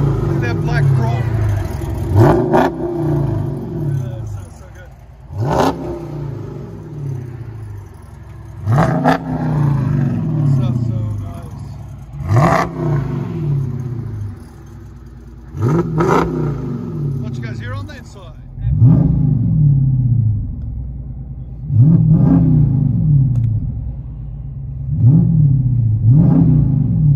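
A 2013 Dodge Challenger SRT8 with a 6.4L HEMI V8 and dual exhaust fitted with Dynomax mufflers revs hard again and again, about eight loud, close throttle blips rising and falling over a deep idle rumble.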